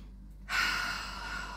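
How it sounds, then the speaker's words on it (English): A single deep breath drawn in during a calm guided relaxation, close and soft, a long steady airy inhale rising from near silence. "Few deep breaths."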